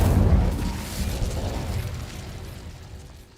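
An Incendio fire spell from Hogwarts Legacy erupts in a loud, close blast with a deep boom up front, then trails off into a rumbling, crackling burn that slowly fades.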